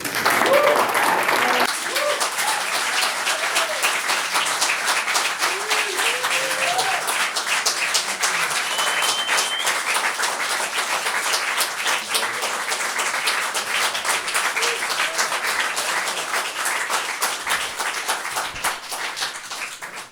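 An audience claps warmly at a radio performance studio, dense sustained applause for about twenty seconds with scattered whoops, gradually thinning toward the end.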